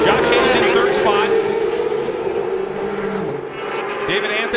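Racing motorcycle engines rev high and hold a steady whine, easing off near the end, under a commentator talking, at a MotoAmerica Stock 1000 race at Circuit of the Americas.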